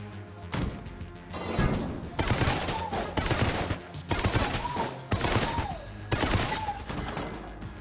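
Bursts of rapid gunfire in the video game Enter the Gungeon, loud and up close. They come in repeated volleys of a second or so each, split by short pauses, with bright impact and pickup tones in between.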